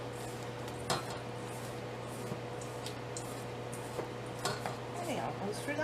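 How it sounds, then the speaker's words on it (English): A spoon stirs bath bomb mixture in a bowl, making scattered clinks and soft scrapes against the sides over a constant low background hum. "Just mix it in there."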